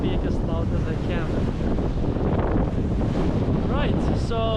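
Strong wind buffets the microphone on a Baltic Sea beach at Rewa, Poland, a loud continuous roar with surf behind it, while a voice speaks intermittently over the gusts.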